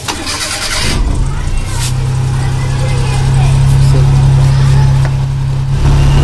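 A Maruti Suzuki Omni van engine starts after a short crank, catches with a burst, then settles into a loud, steady idle close by, with a brief sharp noise near the end.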